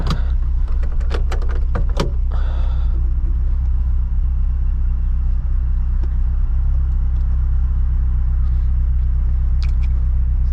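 Supercharged 2006 Honda S2000 AP2 making about 450 wheel horsepower, heard from inside with the top up, gives a steady low engine rumble throughout, with a few clicks and clunks near the start.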